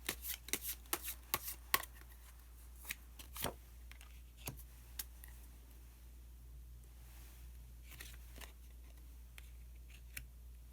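Tarot cards are shuffled and drawn by hand in a quiet room, giving a run of crisp, close riffling snaps and flicks, denser at first and then sparser, with soft rustles between them.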